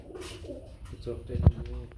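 Hammer pigeons coo softly at close range, low throaty calls rising to one brief louder note near the end, against a quiet indoor background.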